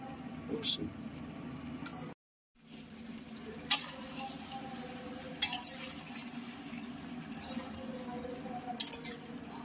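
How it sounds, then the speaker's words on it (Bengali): Desi chicken pieces with skin are stir-fried with potatoes in a pan, a low sizzle under scraping spatula strokes and pot clanks, with someone talking nearby and a short silent break. "মাংসটা সুন্দর করে কষানো চলছে"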